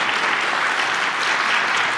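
At the close of a college lecture panel, a hall full of listeners claps in a thick, continuous roar of applause that stays level and unbroken, with no talking.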